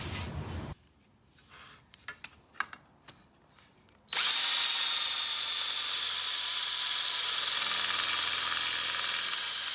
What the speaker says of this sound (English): We probably need to put some holes here. We'll have to drill them.